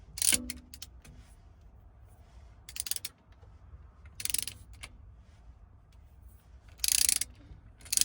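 A torque wrench set to 10 foot-pounds tightens black onyx coated spark plugs on a marine engine, giving a few faint scattered ratchet clicks and short bursts of mechanical rattle against a quiet background.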